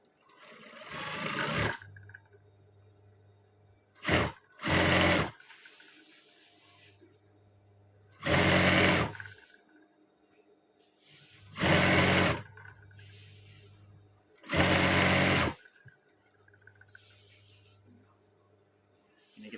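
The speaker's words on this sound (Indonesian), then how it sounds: "sekarang kita jahit pas bagian sini teman-teman, bagian paha" Sewing machine stitching the thigh seam of a pair of trousers, running in five short bursts of steady whirring separated by quiet pauses, close and clear with no talking.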